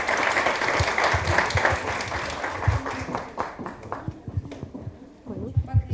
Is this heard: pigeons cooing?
no